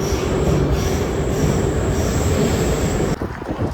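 Metro train wheels squealing continuously inside Khatai station, a loud sustained metallic screech over the rumble of the cars that eases off near the end, with no talking.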